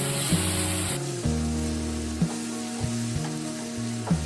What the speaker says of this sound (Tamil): அது வரைக்கும் எண்ணெயில வதக்கிடுவோம்.